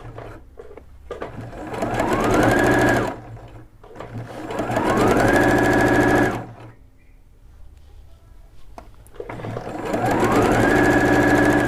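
A Bernette sewing machine stitches a narrow hem with a rolled hem foot, whirring steadily in three loud runs of several seconds each. Brief quiet pauses separate the runs.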